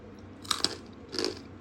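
Crisp bites into crunchy air-fried food, two or three close sharp crunches followed by brief chewing, no talking.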